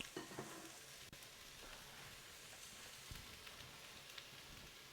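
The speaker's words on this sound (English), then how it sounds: "Right now I'm sweating the onions." Onions sweating in a pan give a quiet, steady sizzle with faint crackles and an occasional utensil tick, low in level and alone.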